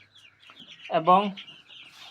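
Chickens on a small poultry farm, penned to one side behind a barricade, give a single short clucking call over a quiet background, with a brief spoken word heard at one point.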